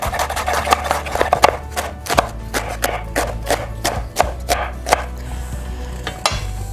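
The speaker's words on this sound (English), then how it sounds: "I'm gonna show you how to cut the cabbage." A knife chops through cabbage on a cutting board in a series of sharp, irregular cuts, up close and loud over a low background hum, with no talking.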